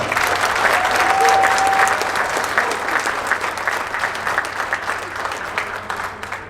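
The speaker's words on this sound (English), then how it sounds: "So give her a round of applause." Sustained applause from a large audience at an Honor Flight Nevada luncheon, steady and loud, tapering off slightly toward the end.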